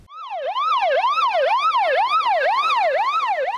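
A fire engine siren wails in a fast, regular up-and-down sweep during a simulated emergency call-out, loud and close, repeating steadily with no talk.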